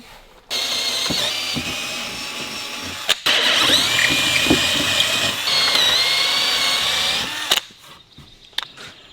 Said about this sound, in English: So the first thing to do is drill a couple of holes in there